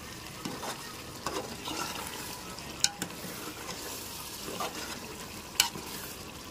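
A spoon stirs chicken curry with softened tomatoes in a pan, giving a soft continuous sizzle with scraping strokes and a few sharper clinks of utensil against metal.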